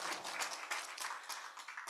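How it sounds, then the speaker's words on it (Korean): An audience at a Buddhist lecture claps, faint steady applause heard briefly from a distance. "오늘 함께 해주신 여러분들에게 큰 박수 한번 보내드리고 싶어요."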